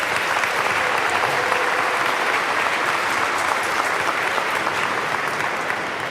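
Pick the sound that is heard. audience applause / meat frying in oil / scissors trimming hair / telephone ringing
audience applause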